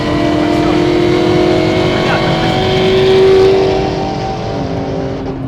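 A 850 hp Shelby GT500KR and a 700 hp Nissan GT-R run a drag race, their engines giving a loud sustained droning roar that swells and then eases as the cars pull away.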